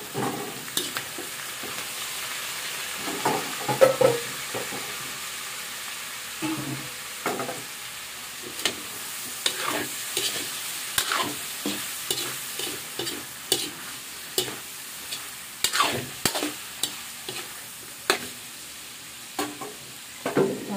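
Squid balls stir-fried in a pan for chop suey: steady sizzling frying with frequent irregular scraping and clattering stirs of a utensil against the pan, close and fairly loud throughout.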